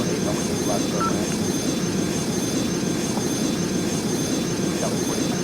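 A FedEx heavy jet comes in to land on runway 8 left, its engines making a steady, loud broadband roar that holds even and continuous throughout.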